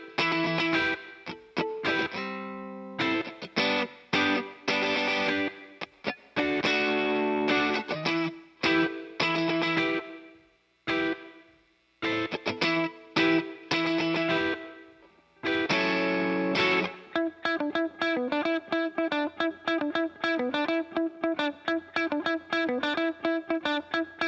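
Distorted electric guitar playing alone, choppy chords and stabs with brief gaps, then a sustained effected riff with a chorus-like shimmer.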